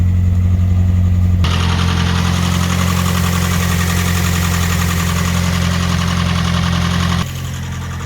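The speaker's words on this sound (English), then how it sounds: "the car's running great" A Nissan S14 drift car's SR20DET engine idles steadily with a low, even rumble and faint vibration, dropping slightly in level near the end; no voices.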